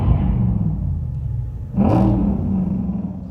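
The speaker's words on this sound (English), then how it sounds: "when driving slowly on the road or accelerating, you hear this brutal sound" A 2027 Mercedes-AMG GT 63 4-door coupe engine rumbles steadily, then swells into a loud, brief rev near the middle before settling back into a sustained low drone, heard alone without talk.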